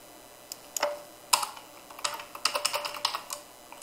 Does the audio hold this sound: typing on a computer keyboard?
yes